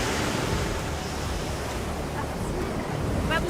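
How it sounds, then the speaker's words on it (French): Ocean waves break and wash on a shore during a boat evacuation, a loud, continuous surf roar mixed with wind buffeting the microphone, no speech heard. "on va bien calculer le rythme des vagues"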